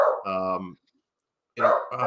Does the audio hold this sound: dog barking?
yes